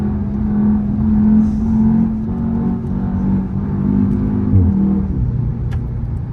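A MK3 Audi TTS engine drones and revs under load in a lower gear, holding a steady growl that rises and falls as it accelerates.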